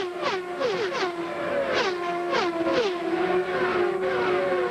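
CART Indy cars race past at the 1998 Michigan 500 coming off turn 2, several high-revving engines screaming by in overlapping waves, each whine sliding down in pitch as it passes, loud and continuous with no speech.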